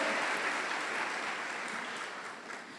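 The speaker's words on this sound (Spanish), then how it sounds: "Den un aplauso a la gracia de Dios porque está bueno." A church congregation claps together during a sermon, a dense wash of applause that holds steady and then gradually thins and fades toward the end.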